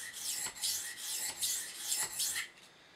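A knife blade rasps rhythmically back and forth across a fast-cutting sharpening stone in freehand strokes, about five close, even passes before it stops.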